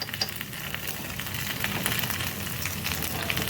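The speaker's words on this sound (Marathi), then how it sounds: "असे सगळे आता मी परतून घेते" Fasting appe being turned as they fry in the pan: a steady, fairly loud sizzle and crackle with light scraping, growing slightly stronger over a few seconds, no voices.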